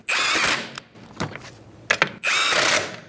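A power impact tool tightens 21mm wheel lug nuts on a Kia Soul, with two loud sustained whirring bursts separated by clanks and handling knocks, close up.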